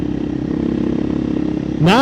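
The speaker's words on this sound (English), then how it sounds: "So lugging it around in 6, she's okay." KTM EXC-F 500 TPI single-cylinder dirt bike lugging at low revs in sixth gear with an FMF muffler, a steady close thudding putter that swells as the throttle opens at the very end.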